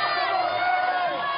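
A sellout crowd of about 5,000 fans cheers and shouts in a college basketball arena after a nationally televised win, a dense, loud, continuous roar with whoops rising throughout.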